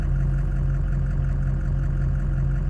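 A truck engine idles at about 650 rpm, giving a steady, low, rumbling drone with an even hum that holds constant from start to finish, close by and alone, with no voices.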